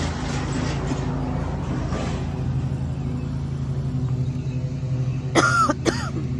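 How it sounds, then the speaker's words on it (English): Two short, sharp coughs near the end, following several seconds of steady low rumble like a running engine or room noise. "my cough is back"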